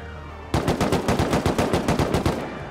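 An AK rifle in the video game Rust firing a fast automatic burst of about a dozen loud, close, evenly spaced shots after a brief quiet moment.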